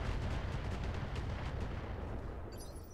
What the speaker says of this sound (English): Comes a lot of missiles.